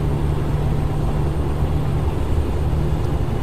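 A Kenworth T680 truck engine drones steadily in American Truck Simulator, a loud, constant low rumble that holds level throughout with no talk.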